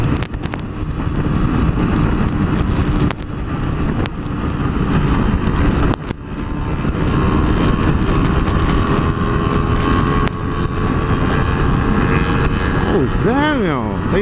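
Honda CG125 Titan motorcycle revving hard at high speed, a loud, sustained droning engine note with wind rush, pitch rising and falling as it accelerates and shifts, with voices talking over it.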